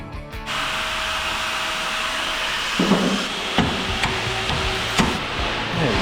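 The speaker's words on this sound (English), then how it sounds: "So we're just gonna drill this out." A steady, loud power-tool whine runs throughout, with a few sharp knocks and pitch shifts as the drill bites into a steel knuckle sleeve on a Jeep Liberty.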